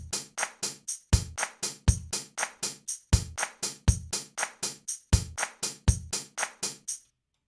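A programmed drum beat loops with punchy kicks and snares under a steady stream of crisp hi-hat or cymbal hits, played alone and evenly.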